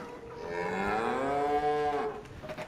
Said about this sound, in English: Look who, oh, we've got 3 cows now.